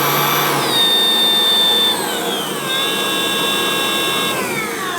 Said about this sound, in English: This is our current job site blower.